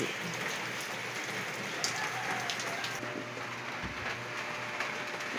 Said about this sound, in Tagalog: kaninang tanghali yun nga, malakas po yung ulan. Hanggang ngayong hapon hindi pa po huminto